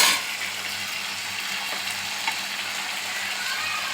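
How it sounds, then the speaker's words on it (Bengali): Meat frying with chopped onion and spices for a biryani, a steady close hiss and sizzle with faint stirring scrapes throughout. "এবার এটা আমি ভালো করে ভেজে নেব"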